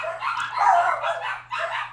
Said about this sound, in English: I have no idea who's creating the dog havoc.